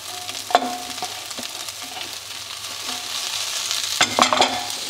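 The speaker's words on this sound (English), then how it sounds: "now we're going to add our colorful capsicum" Colourful capsicum goes into a pan of browned onions for a veggie bean chilli, giving a steady close sizzle with sharp clatters and scrapes of stirring, no voices.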